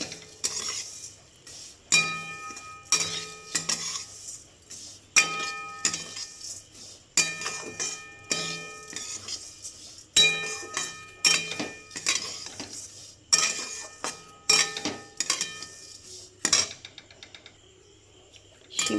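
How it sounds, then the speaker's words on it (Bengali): Vermicelli being stirred and fried in a pan, heard as repeated metallic clinks and scrapes of a spoon against the pan in uneven bursts, close and fairly loud, with no talking. "সিমইটা আমি পুরো লাল লাল করে একটু ভেজে নেব।"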